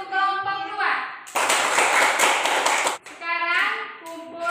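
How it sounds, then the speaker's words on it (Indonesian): Classroom applause for a student group, a burst of clapping lasting a couple of seconds, framed by children's and a teacher's voices speaking before and after. "Tepuk tangan untuk kelompok 2"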